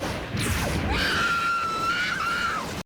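A character in the anime Tenkuu Danzai Skelter+Heaven lets out a loud scream, close and sustained, rising to a long high held note for nearly two seconds before it cuts off.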